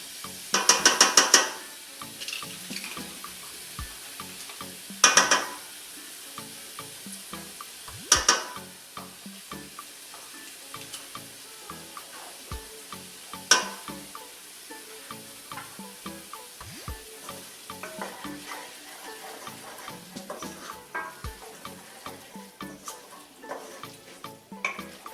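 A spoon stirs Greek yogurt into a shrimp curry over low heat, with repeated clacks and scrapes against the pot above a quiet, ongoing simmer, a few louder knocks early on.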